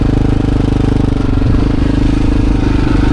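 A KTM 640 adventure motorcycle's single-cylinder engine runs steadily and loud up close, a continuous low throbbing drone with faint clatter, heard alone out in the outback.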